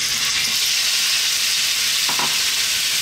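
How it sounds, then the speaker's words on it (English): Pork sizzling in sunflower oil in a wok over above-medium heat, a loud, continuous bright frying hiss with a brief stirring scrape near the end. "What we're going to do is we're going to start off by dropping in our pork."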